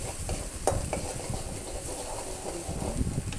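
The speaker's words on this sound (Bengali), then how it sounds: "এখন দিয়ে আমি একটু ভালোভাবে কষিয়ে নিলাম" Spices sautéing with cumin-coriander water for chana dal, giving a close, continuous sizzle with the scrape of a spoon stirring through the pan and a sharp clink or two.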